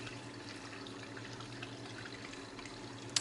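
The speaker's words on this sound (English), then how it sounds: "You can still hear the water and air sloshing around." Water and trapped air slosh and trickle through the cooling loop of a homemade 200W watercooled LED hydroponics lamp, a faint, steady liquid gurgle under a constant low hum, with a small click near the end.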